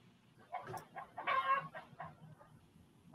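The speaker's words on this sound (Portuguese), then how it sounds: "Tem uma galinha aí atrás." A chicken clucks in the background during a conversational podcast recording, a run of short, fairly faint clucks and squawks followed by a slightly louder burst, with no talk over it.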